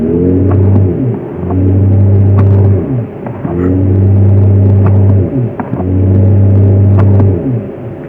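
Mercedes-Benz EQS 580 4MATIC electric car playing its synthetic Silver Waves drive sound, a loud, engine-like hum that rises in pitch with acceleration, falls away, and repeats in several swelling waves.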